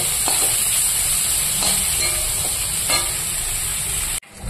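Dhenki saag greens fry in a pan with a steady, close broadband sizzle and hiss that continues throughout, with a few faint clinks of utensils, before cutting off abruptly near the end.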